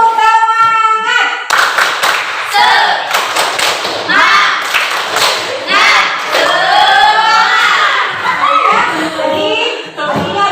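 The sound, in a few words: group spirit clapping (tepuk semangat) by students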